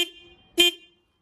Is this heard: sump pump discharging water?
no